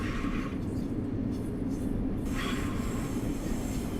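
A Long Island Rail Road train in Train Sim World entering the East River Tunnel, with a steady rumble of rolling wheels and two bursts of high metallic wheel squeal, no talking.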